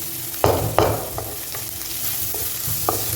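Masala frying in oil in a kadai for kadai chicken makes a close, continuous sizzle, with a couple of sharp spatula scrapes early on and lighter stirring knocks after that, and no voices.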